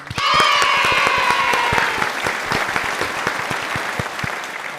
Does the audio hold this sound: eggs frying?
no